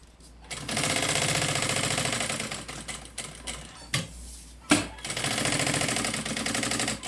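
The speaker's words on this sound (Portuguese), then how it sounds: "Só costurar aqui nas laterais." A sewing machine stitches the side seams of a backpack lining in long, steady rattling runs, pausing briefly in the middle before starting up again, close and clear.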